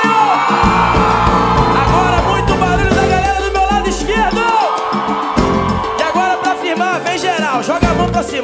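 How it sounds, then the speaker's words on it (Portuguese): Concert crowd at a live samba and pagode show shouting, whooping and cheering loudly and continuously, with a dense roar of voices and music throughout. "Agora muito barulho da galera do meu lado esquerdo."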